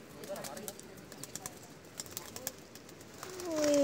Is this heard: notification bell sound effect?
no